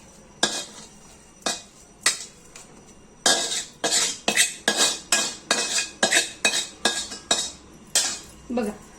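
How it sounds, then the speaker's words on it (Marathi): Modaks made with betel leaves are moved one by one onto a metal plate, giving a near series of sharp clinks and scrapes of utensil on metal, irregular at first, then quick and regular, with no talk. "आपण ते आता छान ताटात काढून घेऊ मी एका ताटात ते काढून घेतलं"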